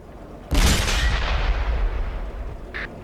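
One deep tank cannon blast from the AMX 13 90 in World of Tanks, a sharp loud boom that rolls into a long rumbling decay, followed near the end by a brief higher-pitched mechanical tone.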